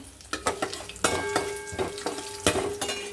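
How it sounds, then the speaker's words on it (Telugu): Mustard seeds, cumin, fenugreek and garlic fry in hot oil for an Andhra taro curry tempering: a close, crackling sizzle broken by several sharp clinks and scrapes of a spoon against the pan. "ఆవాలు, జీలకర్ర, మెంతులు, వెల్లుల్లిపాయ చక్కగా వేగుతుంది"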